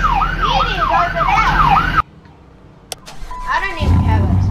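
A wailing siren from a Roblox game sweeps up and down loudly, cuts off abruptly, then returns more faintly alongside other game noise.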